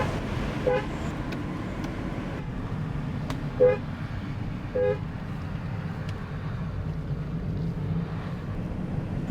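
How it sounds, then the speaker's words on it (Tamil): A lorry rumbles past on the Dhimbam Hills ghat road in Sathyamangalam forest, with engine noise throughout while its horn toots several short blasts, loud and close. "லாரி வருது."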